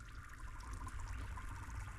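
An oak burl goes down into a tank of stabilizing resin, sending out a soft, continuous liquid trickle and sloshing at low volume, with no voices.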